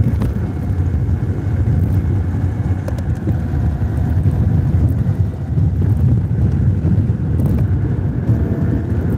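An electric car pulling away and merging into New York City traffic, heard as a loud continuous low rumble of road and wind noise buffeting the microphone, steady throughout with no voices.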